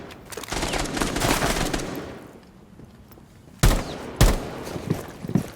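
Gunfire from the tactical shooter Rainbow Six Siege: an opening stretch of rapid automatic fire, a lull, then two sharp loud shot bursts close by.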